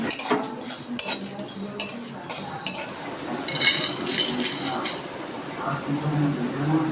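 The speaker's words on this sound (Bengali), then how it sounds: "ভাজা মশলা তৈরি করে নেব তার জন্য নিয়েছি দুটো এলাচ একটু দারচিনি দুটো শুকনো লঙ্কা একটা তেজপাতা কটা জিরে কটা ধনে" Whole spices (cardamom, cinnamon, dried chillies, bay leaf, cumin and coriander) are dry-roasted in a pan for bhaja masala, with scraping, clinking and stirring of a utensil against the metal in close, irregular bursts, easing toward a softer rustle.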